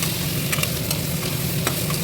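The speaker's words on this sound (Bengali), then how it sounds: "কিন্তু পেঁপে আর আলুটা দেখো ভাজা ভাজা করছি" Papaya and potato pieces stir-fry in a wok, a loud, continuous close sizzle with sharp scraping stir strokes at irregular intervals, no voices.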